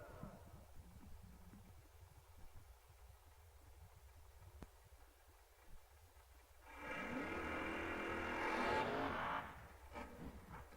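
A dragster making a bye run down the left lane of a drag strip, quiet engine idle and crowd hum at first, then a loud roaring launch that swells for a few seconds and fades into the distance.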